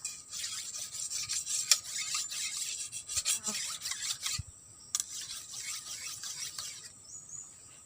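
A blade is rubbed back and forth against a sharpening surface in quick, fairly faint rasping strokes, with brief pauses between bursts and no talking.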